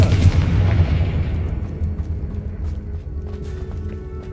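A heavy magical explosion from the Confringo blasting curse in Hogwarts Legacy, a loud booming burst that rolls off into a fading rumble with faint debris-like crackles afterward.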